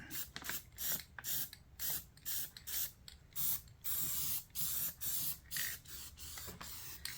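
A spray paint can coats the rusty floorboards of a John Deere lawn tractor in about a dozen short hissing bursts separated by brief pauses, close and fairly quiet.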